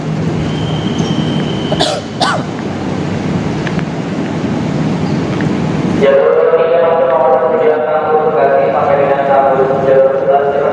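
The Soekarno-Hatta airport train runs with a steady loud rumble, a sharp clatter near two seconds, then a tonal hum as it moves; a voice talks over it.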